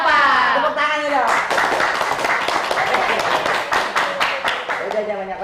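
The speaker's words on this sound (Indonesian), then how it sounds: "Tepuk tangan dong." A small live audience claps briefly at a studio show, a dense patter of hand claps sounding close and steady, mixed with talk at the start and end.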